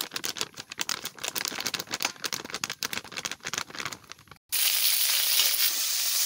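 Paneer frying in hot oil for a vegetarian paneer curry, a dense crackling sizzle that is choppy at first and then settles into a steady, loud hiss with no talk.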